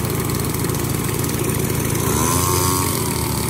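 A mini water pump's small engine runs steadily after a pull start, a continuous loud buzzing drone with no talk over it.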